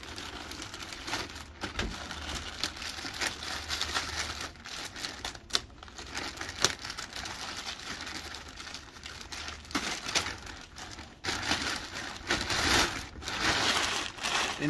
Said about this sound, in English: So next we're going to be removing the rubber band from the outer bag